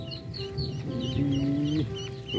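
Ducks cluck and call close by in a steady string of short chirpy and honking notes, with a longer drawn call in the middle.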